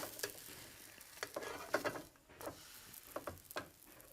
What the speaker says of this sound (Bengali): যখন এরকম চেঞ্জ হয়ে যাবে তখন আমি পরোটাটাকে সাবধানে উল্টে দিচ্ছি